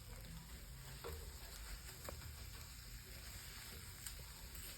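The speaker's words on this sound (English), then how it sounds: "See how nicely the spatula moves things around and nothing is hardly sticking at all" Spatula stirring breakfast food around a frying pan, a soft steady scrape and sizzle with a few faint clicks, continuous and fairly quiet throughout.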